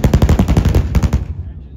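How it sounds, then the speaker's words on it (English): An AH-1Z Viper attack helicopter fires its 20mm cannon in one loud, rapid, rattling burst of closely spaced shots. The burst cuts off abruptly and leaves a short, fading echo. "suppress the enemy with rockets and 20mm cannons"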